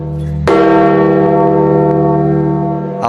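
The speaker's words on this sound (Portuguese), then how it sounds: "O sino do Vaticano anunciou a morte do Papa." A large church bell at the Vatican strikes once, loud and close, then rings on with a long, rich, slowly fading hum of layered overtones, tolling to mark the death of the Pope.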